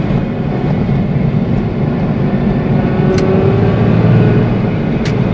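A Porsche 996 driving through the Roppongi district of Tokyo, with a loud steady engine drone and road rumble from inside the car and a couple of faint higher clicks along the way.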